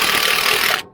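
A speed binder being tightened with a 9/16 socket on a ratchet, a dense rapid clicking whir for most of a second that cuts off abruptly, close and fairly loud.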